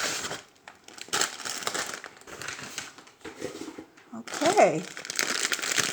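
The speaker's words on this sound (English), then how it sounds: "Sorry for the crinkles" Plastic mail packages crinkle and crush in bursts of close, crackly rustling, with pauses between handlings, while someone talks briefly over them.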